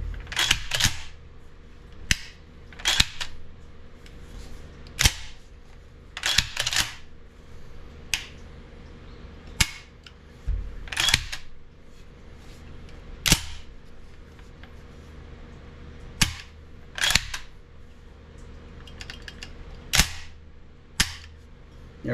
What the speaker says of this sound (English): So from there, simple function check.